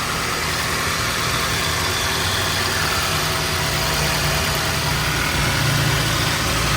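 A used Toyota Avanza or Daihatsu Xenia, timing cover starting to seep oil, idles with a smooth, steady low hum and faint vibration, close and unbroken throughout.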